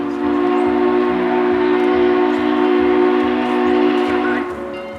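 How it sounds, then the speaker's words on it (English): The whistle of the Southern 4501 steam locomotive sounds as a sustained, chord-like blast that holds for several seconds before easing off. A faint rhythmic chugging runs underneath it. "it would not be a long wait before we started hearing a distant whistle"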